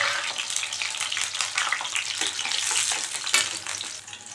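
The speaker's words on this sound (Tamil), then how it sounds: "எண்ணெய் கொஞ்சம் நல்லா தாராளமாக ஊற்றி கத்திரிக்காவை வதக்கிக்கோங்க" Brinjal frying in a generous amount of oil in a pan, a busy crackling sizzle with stirring and scraping sounds over it, steady and close throughout.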